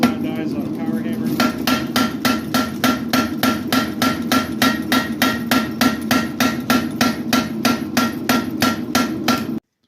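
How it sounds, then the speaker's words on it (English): A power hammer with flat dies pounds a Japanese bunka knife blade in rapid, steady, evenly spaced blows. The strikes are loud and close and run without a break for nearly ten seconds. "Some I can do flat dies on a power hammer."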